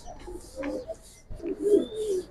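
Giribaz pigeons at a pigeon market give soft, low coos in two short bursts, close by, with light background murmur and no clear talk.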